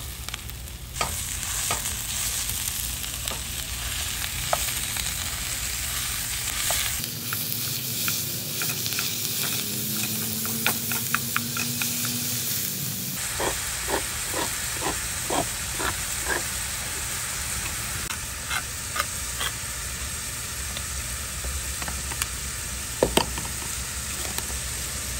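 Ground beef frying in a camp oven sizzles in a steady, close hiss with frequent stirring scrapes and clicks, broken by a short quieter stretch with a low hum before the loud frying returns.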